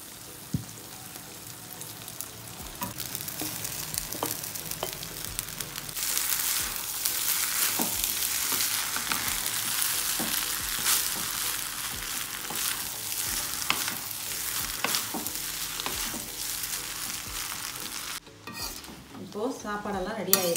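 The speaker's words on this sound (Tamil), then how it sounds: "இதை நம்ம அதில் கலந்து மிக்ஸ் பண்ணி விட்டுடலாம்." Moong dal and cooled rice being stirred together in a frying pan, a steady sizzle with repeated scraping strokes of a spoon that continue throughout and end with a brief clatter.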